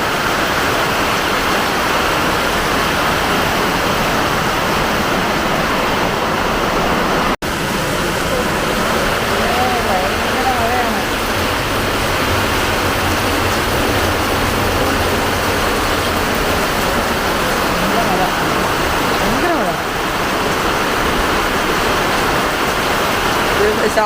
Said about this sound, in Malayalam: ഒരു രക്ഷയില്ലാത്ത മഴയാണ് കേട്ടോ.